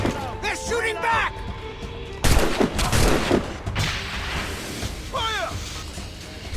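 Gunfire in Assassin's Creed Rogue: a ship battle with sharp cracks and a sudden heavy volley of shots, among shouted voices and whistling, crashing impacts.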